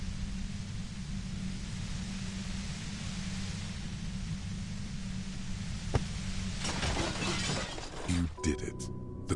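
A compressor machine is smashed in the video game Disco Elysium: a steady droning hiss runs throughout, then a sharp knock and a burst of clattering, shattering crashes breaks through near the end.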